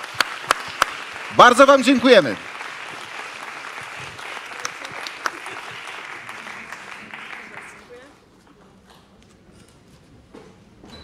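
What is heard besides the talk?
audience applause at award gala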